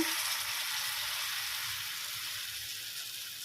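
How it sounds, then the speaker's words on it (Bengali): Pumpkin leaf fritters dipped in gram flour batter fry in hot oil, a dense, bright, continuous sizzle that stays loud and even throughout with no talking. "বেসনে ডুবিয়ে নিয়েছি এবারে আমি ভেজে নিচ্ছি"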